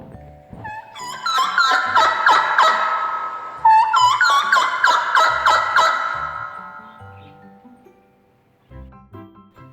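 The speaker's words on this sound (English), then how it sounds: "Turkey." A turkey gobbling in loud, rapid rattling bursts, two main calls close together, followed by softer clucking.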